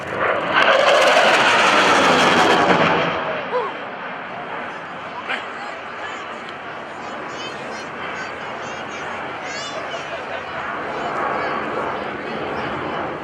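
QF-4E Phantom jet at the NAS Oceana airshow in a USAF heritage flight: a loud roaring pass swells over the first three seconds, then fades to a sustained distant engine rumble with crowd noise underneath.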